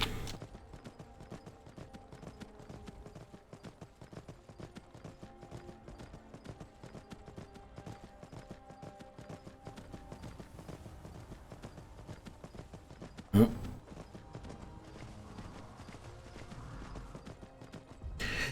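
Horse hooves clip-clop steadily in the Skyrim video game, a continuous rhythmic trot that runs throughout at moderate level, with one sharp louder knock near the end.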